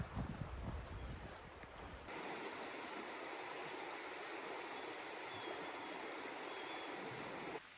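Continuous rushing water of Katahdin Stream, a mountain stream in Maine, fills the scene, broad and steady, with a brief rougher gust of wind noise early on.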